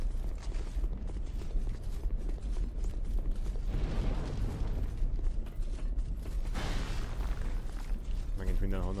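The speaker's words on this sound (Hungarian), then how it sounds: "Megint mindenhonnan csak lövöldöznek rám." In Dark Souls 2 gameplay, gunfire and explosions sound as repeated sharp bangs and booms with mechanical creaks, and a player talks over the continuous loud clatter.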